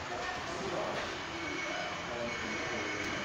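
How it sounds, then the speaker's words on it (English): A model Midland Main Line HST train, eight scale-length carriages, rumbles steadily past on a DCC layout, a continuous close rolling noise with faint wheel squeal, while a voice talks over it. "And Midland Main Line is passing now."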